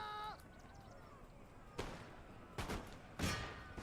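Ragged volleys of musket fire from line infantry in Empire: Total War, three distant crackling bursts spaced over a few seconds after a brief shouted command.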